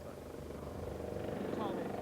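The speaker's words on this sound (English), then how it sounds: "a Lynx helicopter arrives" A Lynx military helicopter arrives over the main arena at an outdoor agricultural show, a steady rotor and engine drone building slightly in loudness throughout, blended with crowd murmur and a voice talking over it.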